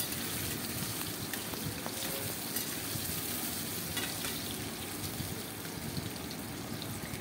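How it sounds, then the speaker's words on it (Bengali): Potatoes frying in a pan with green chilli, onion and coriander leaves, a steady close sizzle with faint stirring, no talking. "এবার আমি আলুটাকে একটু লালচে লালচে করে ভেজে নেব।"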